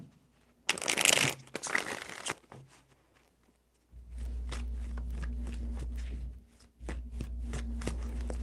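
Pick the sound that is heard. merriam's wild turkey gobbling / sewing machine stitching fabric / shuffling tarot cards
shuffling tarot cards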